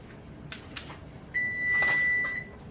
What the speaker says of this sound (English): hit that alarm? That means the rice is cooked